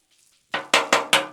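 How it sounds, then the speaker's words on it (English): Bacon and sausage cooking on a Blackstone griddle, heard as four sharp, loud scraping and sizzling bursts in quick succession from a spatula working the food, after a nearly silent start with no talking. "Gonna mix the bacon in with it, let it finish cooking up with that sausage."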